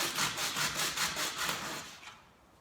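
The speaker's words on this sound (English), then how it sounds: "just get a bit of sandpaper and sand it" Rhythmic back-and-forth scratching of sandpaper on wood, close up, about ten quick strokes that fade out at the end.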